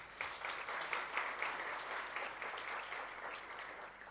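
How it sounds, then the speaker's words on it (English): Steady applause from an audience at a mid-year budget speech event, a continuous wash of clapping at moderate volume for several seconds. "It is my conviction that Madam Monique Klute certainly deserves another round of applause."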